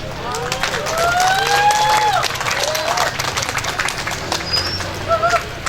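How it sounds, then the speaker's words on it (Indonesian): An audience at a charity gathering for orphaned children claps, with high whistles and chirpy children's cries rising through the noise and a murmur of voices beneath, loud at first, then thinning toward the end. "Ada yang mau tepuk tangan nggak?"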